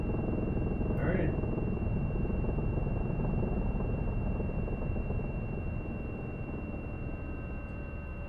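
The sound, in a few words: helicopter rotor in a flight simulator video game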